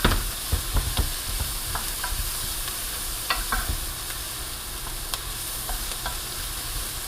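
Garlic sizzles loudly in a hot pan as a spoon scrapes and stirs it, giving steady frying crackle broken by sharp clicks and scrapes close up, with no voices.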